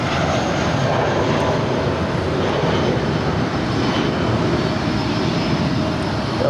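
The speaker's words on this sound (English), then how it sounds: "This arrival on the north side is Delta 2789 coming in from JFK. It's a 767-400ER" A Delta Boeing 767-400ER lands on the north side at LAX, producing a loud, continuous jet engine roar that holds steady and close with no speech over it.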